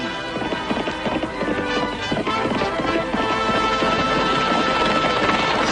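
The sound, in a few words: horse galloping hooves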